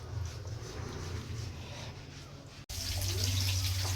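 Water runs steadily from a tap during a home bath, a continuous close rush. Partway through it cuts out briefly, then returns louder and brighter.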